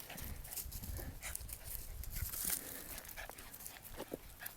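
Dogs out on a mountain path during an evening walk: faint panting and paw or footstep patter with a few short sharp sounds, all fairly quiet and distant against outdoor background.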